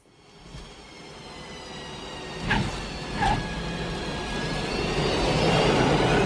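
An aeroplane passes within a music track, a swelling engine roar building gradually under the music, with a couple of brief mechanical accents midway as the drone grows louder toward the end.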